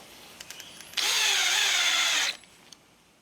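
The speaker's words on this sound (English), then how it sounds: "We're using good heavy screws to make sure our faceplate is very secure." A power drill drives heavy screws into a wood lathe faceplate, one loud, steady whir lasting just over a second that stops abruptly, with faint ticking before and after.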